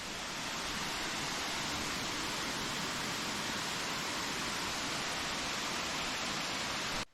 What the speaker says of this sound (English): we managed to get to the last waterfall, which is also the highest of them all